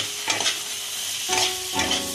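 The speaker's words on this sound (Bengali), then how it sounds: "এবার আমি এই ভাজা পটল আলুগুলো দিয়ে দিলাম, দিয়ে আমি একটুখানি কষে নেব" Fried pointed gourd and potato pieces are stirred in a sizzling pan, three distinct scraping strokes over a steady frying hiss, close up with no voices.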